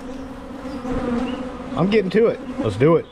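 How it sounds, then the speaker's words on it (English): A dense swarm of bees buzzes steadily as a constant drone, with a voice talking over it near the end. "A lot of cheesy, pissy bees right now."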